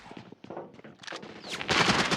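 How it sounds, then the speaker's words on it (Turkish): Rapid gunfire bursts from a shotgun in a video game, sharp repeated blasts that build from scattered shots to a dense, loud volley toward the end. "elinde pompalı var ve adam buradan gelir. Adam vurdu."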